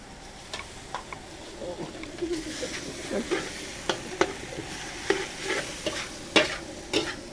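Macaroni and chicken are stir-fried in a pan, with a continuous sizzle broken by repeated sharp scrapes and clacks of the utensil, fairly close and without talk.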